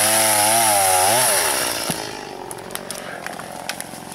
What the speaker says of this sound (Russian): Он тут пилит, сам пилит.